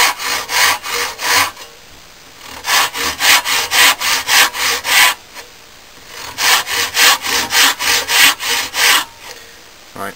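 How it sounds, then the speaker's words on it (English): Worn hand saw cutting into the wooden handle of a bill hook, in loud, rhythmic back-and-forth strokes that come in three bursts separated by short pauses. "cutting enough down into the handle without quite ruining the teeth of this even knackered saw"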